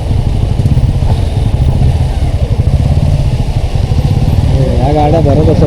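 Motor vehicles, mostly motorcycles, run along a rural road in Devrukh during the monsoon, passing near the rural hospital. Engines drone steadily and close throughout, with a rising rev near the end and a faint voice underneath.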